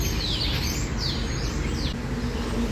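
Loud birds in a city park in Almeria, Spain, a dense chorus of chirps and sweeping whistled calls over a constant noisy background, continuous and close.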